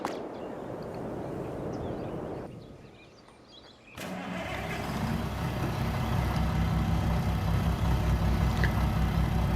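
Milk truck engine in Farming Simulator 22, background noise dropping away before the engine starts abruptly and settles into a steady, loud idle rumble that builds slightly, with no talk.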